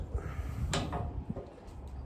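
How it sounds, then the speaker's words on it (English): A wood stove door is cracked open close by, a short metallic clunk and scrape of the latch and hinge standing out over low room rumble, followed by faint small knocks. "Crack the door a little bit."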